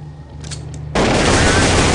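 Gunfire from the game Counter-Strike: Source on the de_nuke map starts abruptly after a quiet second with a few faint clicks, then becomes a dense, loud, continuous burst of rapid shots that fills the rest of the moment.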